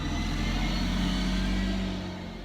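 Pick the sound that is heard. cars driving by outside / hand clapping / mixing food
cars driving by outside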